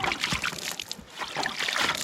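Water pumped up from a newly dug well, a quiet splashing and sloshing gush, close but faint, with no talking.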